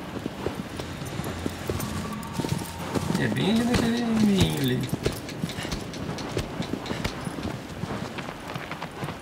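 Rapid rhythmic hoofbeats clop steadily like a galloping horse in the video game Shadow of the Colossus, with a brief whinny partway through and someone talking over them.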